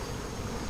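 Bees in the video game Massive Chalice buzz in a loud, continuous drone that fills the whole brief moment, close and unbroken.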